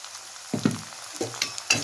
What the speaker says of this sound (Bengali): পেঁয়াজটা ভাজা ভাজা হয়ে গেছে এতে আমি দিয়ে দিচ্ছি আদা রসুন